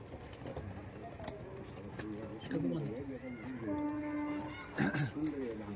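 High-flying teddy pigeons in Murshidabad coo in rolling, throaty phrases, several calls overlapping up close while someone talks over them.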